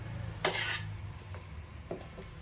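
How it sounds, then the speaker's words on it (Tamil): Jaggery syrup mixture being stirred by hand in a pan for a ration-rice sweet, giving a few light metallic clinks and scrapes of spoon against the pan, close and fairly quiet, with no talking. "கட்டி இல்லாமல் நல்லா மெதுவாக மிக்ஸ் பண்ணுங்கள்"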